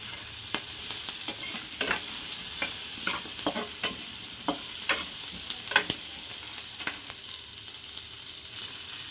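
Garlic and cinnamon fry in hot oil for a chickpea sambar, a steady sizzle punctuated by a regular series of spoon scrapes and clicks against the pan, close and unaccompanied by talk.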